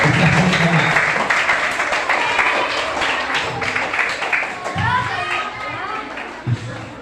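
Classroom applause for a classmate during an Isra Mi'raj quiz, a burst of clapping mixed with children's chatter and shouts that fades as a voice starts speaking.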